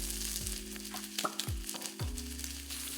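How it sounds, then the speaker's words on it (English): Steady, loud sizzling of steak frying in hot oil in a pan, a continuous crackling hiss with a few brief pops and clatters. "you want that sizzling noise"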